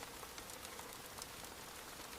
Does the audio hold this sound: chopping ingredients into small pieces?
no